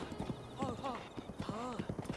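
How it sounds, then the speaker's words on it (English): Horse hooves clip-clopping at a steady riding pace in the video game The Legend of Zelda: Breath of the Wild, with voices talking over the rhythmic hoofbeats. "we're just riding this horse to Rico Village"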